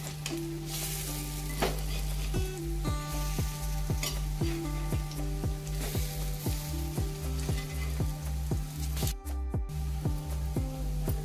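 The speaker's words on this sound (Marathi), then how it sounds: "हे पहा, या पण आपल्या आता मस्त फ्राय करून झालेल्या आहेत." Crispy fritters of fresh small prawns (jawla) fry in a pan with a strong continuous sizzle, joined by regular scraping and clinking of a utensil against the pan, close up and without voices.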